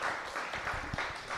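A small audience gives a speaker a round of applause after a talk. Quiet, scattered clapping from a modest group, with a few individual claps standing out.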